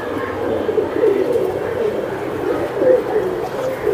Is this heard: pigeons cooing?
yes